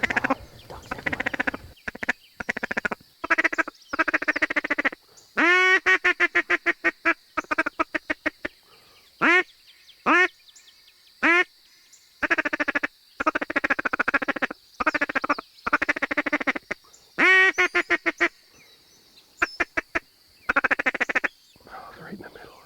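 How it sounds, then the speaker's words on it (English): Ducks, likely wood ducks, quack repeatedly in bursts of rapid calls, close and loud, with people talking quietly between the calls. "Ducks everywhere."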